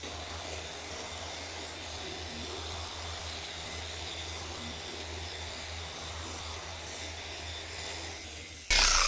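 A car polishing machine spins steadily on the paint of a Mazda MX-5, a constant close whirring drone with no breaks that cuts off abruptly right at the end.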